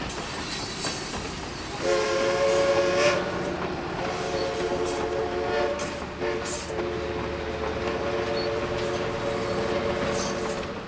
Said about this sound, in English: 4501 whistles across the Lake Wanda Rieta Road crossing.